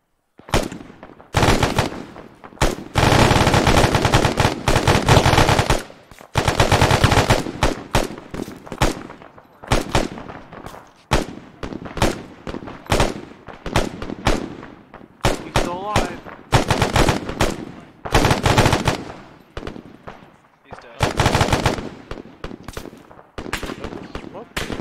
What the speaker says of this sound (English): We're getting shot at from the north northeast.